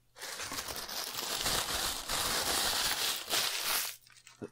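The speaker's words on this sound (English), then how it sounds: "Sorry for all the crumpling, throw that in there." Loud, continuous crinkling and crumpling of packaging paper close to the microphone, lasting about four seconds before stopping abruptly.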